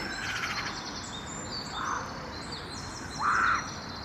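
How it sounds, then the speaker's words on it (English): Birds call overhead in a town park, a few harsh crow-like caws standing out over a steady outdoor background hiss, with no talking. "You don't always hear the birds."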